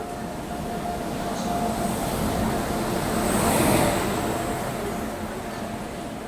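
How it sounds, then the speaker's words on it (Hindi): Coimbatore Rajkot Express pulling into a station platform, a steady rumbling roll of wheels and carriages that swells toward the middle and eases off, with faint background chatter. "फिलहाल तो अभी ट्रेन जो है वो आ रही है।"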